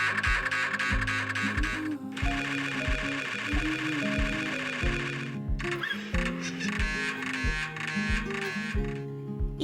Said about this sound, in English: When the MRI starts taking pictures, it can sound like a washing machine or a video game.